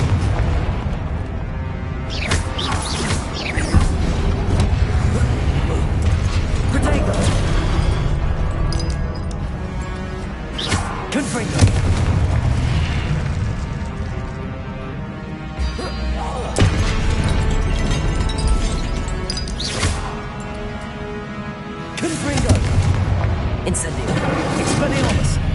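Explosive spell blasts in the Hogwarts Legacy video game on PS5 boom and crash repeatedly over a dense, continuous bed of game music and effects, loud and close throughout.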